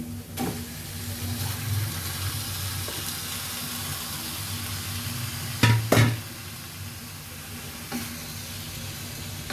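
Chicken pieces frying in hot oil with shrimp paste for a Thai green curry: a loud, steady sizzle throughout, with a couple of sharp clanks of stirring near the end and no talking.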